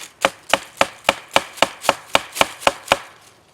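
A full-tang BK06 camping knife is hammered through wood for splitting, giving ten sharp, evenly spaced woody knocks close by with nothing else around.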